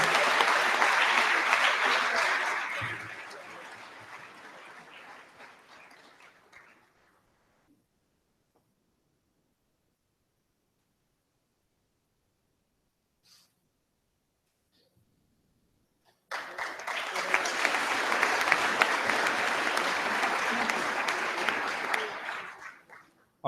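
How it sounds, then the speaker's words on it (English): Applause for students at a school awards night, a full room clapping loudly that fades out, then a long silence of nearly ten seconds before a second round of strong clapping begins and holds. "So we want to give them a huge round of applause, say well done to everybody"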